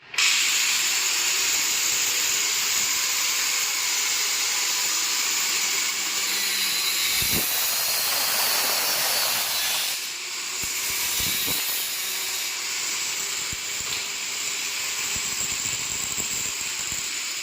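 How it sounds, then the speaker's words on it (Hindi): An angle grinder cuts a metal false-ceiling channel with a loud, steady, high-pitched whine and hiss that runs throughout, the tone dipping briefly mid-cut, with a few clanks of metal. "देखिए इस तरह से ग्राइंडर से काट के, ताकि ये इस तरह से एडजस्ट होगा"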